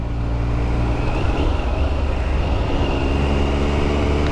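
A Triumph Sprint RS 955i six-speed motorcycle running, its engine a loud, steady close-up drone with a continuous low rumble and no voices.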